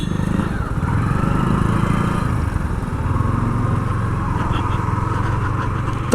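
Yamaha MT 15 BS6 2020 motorcycle being ridden, a steady close engine drone with buzzing exhaust note and wind noise throughout.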